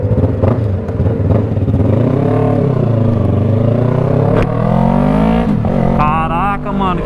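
A Yamaha R3 race motorcycle accelerating on a damp track, its engine revving loudly and close with rising and falling pitch through gear changes, the note climbing sharply near the end.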